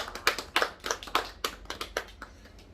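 Scattered applause from a church congregation at a worship service in Freetown, soft and somewhat distant, irregular claps that bunch up and then thin out over a few seconds.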